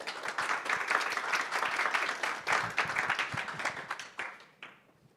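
Dense applause from a conference audience welcoming a woman to the stage at an SME finance event, steady and full for several seconds before thinning and fading out.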